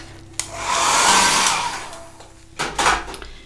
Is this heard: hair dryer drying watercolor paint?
yes